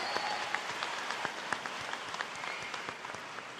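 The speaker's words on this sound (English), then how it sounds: "Let's give ourselves a round of applause for getting here today." A large crowd at a University of Houston-Downtown commencement applauds, a faint, distant wash of clapping with scattered sharper individual claps throughout.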